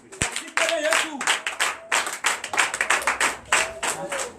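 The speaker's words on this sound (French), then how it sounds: "Donne l'acclamation à Jésus." A church congregation at a Sunday service claps in steady rhythmic bursts in acclaim to Jesus, with voices and cheering mixed in throughout.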